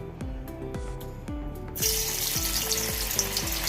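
Anchovy fish frying in hot oil on a full gas flame: continuous crackling sizzle that grows louder partway through, with faint background tones.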